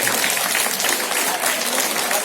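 A room full of people clapping together in a continuous clapping exercise, a dense, loud wash of applause with no breaks from start to finish.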